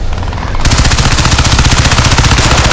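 Steady, loud automatic weapon fire rattles in an even rapid rhythm during Crysis 3 multiplayer, the bursts dominating with no talking over them.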